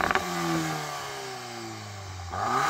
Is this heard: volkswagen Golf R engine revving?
yes